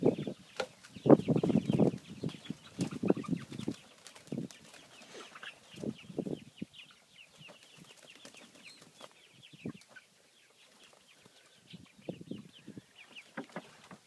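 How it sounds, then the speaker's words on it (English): Kosher King broiler chickens cluck and call in a farm setting, a dense burst of nearby fowl sounds early on that thins into scattered, quieter clucks with pauses. "Silver King or Kosher King broilers."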